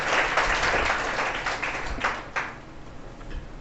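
An audience at a school physics quiz applauds together, a dense burst of clapping that starts strong and gradually thins out over a few seconds.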